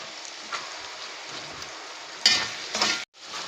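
Onions sautéing in a pot, a soft steady sizzle throughout with a few louder bursts of stirring and spattering near the end, then a brief drop to near silence before it resumes.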